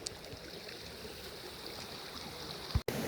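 A river runs steadily beside a campground, a broad continuous rush of flowing water that stays even throughout, with a brief low bump near the end.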